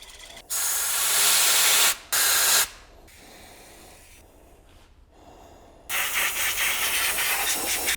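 Pressurised spray bursts hiss loudly while a V8 engine crankshaft is washed clean, several separate blasts of a few seconds each broken by quieter gaps, close and with no talking.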